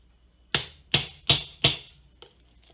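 Four sharp, evenly spaced hammer blows on a metal punch flare the end of a rivet on a steampunk desk lamp, then one faint tap. The strikes are close and loud, with no talk.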